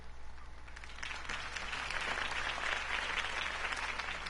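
A crowd applauds Harvey Dent's campaign speech in the Batman: The Realm of Shadows game, the clapping swelling after the first second and holding as a steady roar over a low hum.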